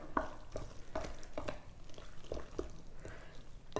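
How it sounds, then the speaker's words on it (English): Corn casserole ingredients with sour cream being stirred together in a bowl, a steady series of soft, wet scraping strokes recurring about every half second, close and moderately loud with no talking. "Let's mix this all up."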